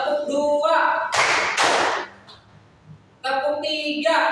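A class claps twice in unison on command, two loud, sharp claps about half a second apart with a brief hush after them. Voices speak before and after the claps.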